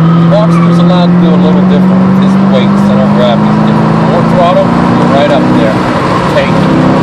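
A Mercedes-AMG C55 accelerates on the Summit Point race track, its engine note droning and rising steadily as the car pulls, with an instructor's voice talking over the engine.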